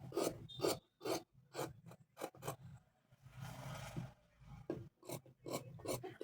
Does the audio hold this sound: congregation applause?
no